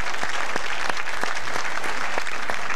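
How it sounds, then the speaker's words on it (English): Steady audience applause fills a lovely private house in 1970s England, dense even clapping sustained throughout with a few sharper individual claps standing out. "could we please now have a round of applause for the suspects?"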